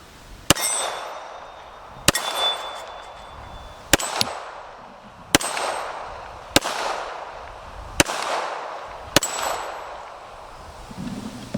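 Seven sharp gunshots from a Springfield Emissary 1911 .45 ACP handgun ring out at a steady pace, each crack followed by a short fading echo on an outdoor range.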